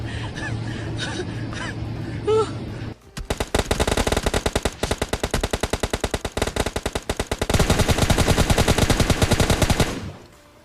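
Gunfire in the mobile shooter PUBG Mobile Lite: after a brief, quieter stretch of game ambience, loud automatic weapons open up in rapid, sustained bursts of close shots that run almost unbroken for about seven seconds before stopping.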